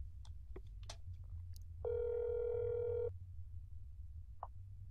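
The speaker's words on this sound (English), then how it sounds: "Right, let's ring the number again." A telephone ring tone sounds once, a steady electronic burst of a little over a second, as a number is dialed in a horror video game; faint clicks and taps surround it over a low hum.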